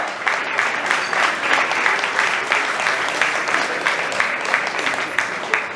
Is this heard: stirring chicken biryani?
no